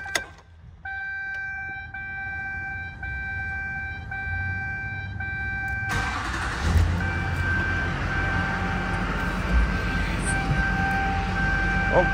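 A GMC Sierra 2500HD 4x4 with the Duramax LLY diesel engine and 39,000 miles cranks and starts, then settles into a steady close diesel rumble. Before it, a string of electronic warning chimes repeats in the cab.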